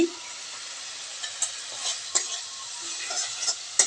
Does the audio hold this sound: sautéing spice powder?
yes